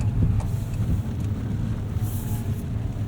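A 2024 Fiat 500e electric car coasts along a road with the throttle released, giving a steady low road and wind rumble with no engine note and no talking.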